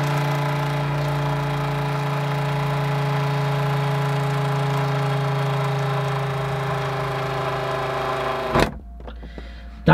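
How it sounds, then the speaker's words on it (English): An electric water pump aboard a narrowboat runs with a steady motor hum and whine for about eight and a half seconds, close and constant, then cuts off abruptly, leaving near silence with faint clicks. "That was the water pump, what comes on, obviously, when it's switched on."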